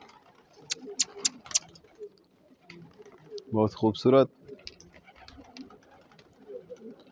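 Several soft coos from black-barred pigeons repeat in a short cluster, close by, with scattered chirps and a person speaking quietly around them.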